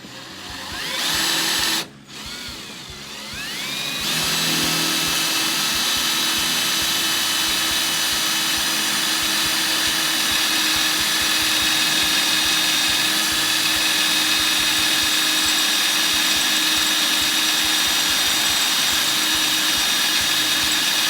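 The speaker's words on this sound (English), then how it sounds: "that next drill bit stay on center as I drill through that broken bolt" A power drill grinds steadily through metal after a brief start, its loud continuous whine holding a constant pitch for most of the stretch.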